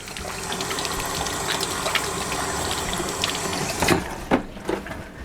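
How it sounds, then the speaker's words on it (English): Tap water runs steadily and fairly loudly in a home kitchen sink while hands are washed, a continuous splashing rush with a few louder splashes and clunks near the end. "Now I'm gonna wash my hands, because we gotta get some of that stickiness off."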